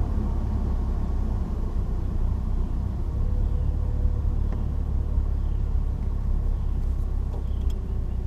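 A car heard from inside as it drives down a rural road on a pleasant day, giving a steady, loud low rumble of engine and tyre noise with no break and no one talking.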